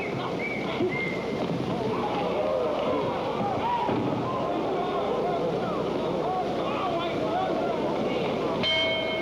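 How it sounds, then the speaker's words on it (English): A boxing ring bell rings briefly near the end of a 1963 heavyweight ten-round bout at the Convention Center in Louisville, Kentucky, sounding over a steady roar of arena crowd noise. "There's the bell."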